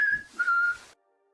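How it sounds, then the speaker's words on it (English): A person whistles a short, clear tune of two sustained notes, close and alone, ending abruptly into silence. "There was a whistle."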